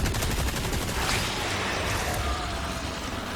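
Rapid automatic gunfire from a machine gun in the 2023 Resident Evil 4 Separate Ways, a continuous dense stream of shots that stays loud and steady throughout, with no talk over it.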